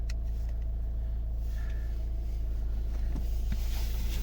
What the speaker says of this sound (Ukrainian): Заводимо. Чітко заводиться, проблем немає.